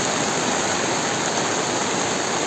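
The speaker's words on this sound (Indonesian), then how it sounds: "Hujannya deras sekali." Heavy rain pours down in a village agrotourism garden, a loud, unbroken roaring hiss with no pauses.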